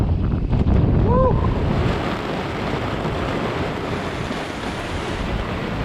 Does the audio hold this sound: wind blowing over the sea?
yes